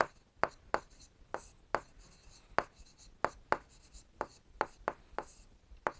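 Chalk or marker writing on a board while solving a geometry maths problem, a series of sharp taps and short strokes at an irregular pace, close and fairly quiet, with no talk.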